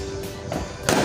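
Fireworks and firecrackers burst outside during New Year's 2022 celebrations, two quick booms cracking over a dense, continuous wash of distant popping.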